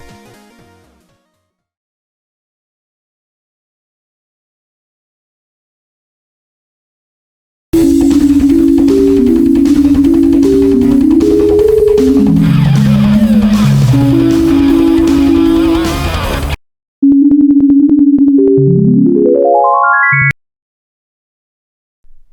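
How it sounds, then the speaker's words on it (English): Default arpeggio synth patches play in Wwise, bright stepped melodic phrases of rapid tones, then a sustained note and a rising glide, alone with silence before and between. "The synth sounds you just heard are default and most definitely need some tweaking"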